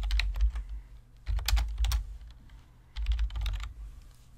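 Someone types a supplier name on a computer keyboard, producing bursts of quick, close key clicks separated by short pauses, with no talk.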